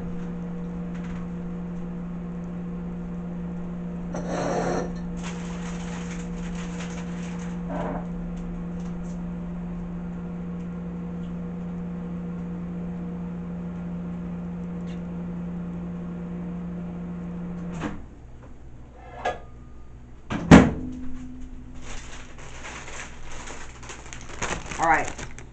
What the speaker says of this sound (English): So I put that in the microwave